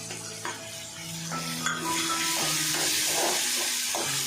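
Chicken liver frying in oil with tomato and a green chili, a steady broadband sizzle with occasional stirring scrapes and clinks of a utensil against the pan, close and continuous with no talking.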